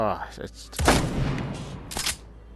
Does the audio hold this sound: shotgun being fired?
yes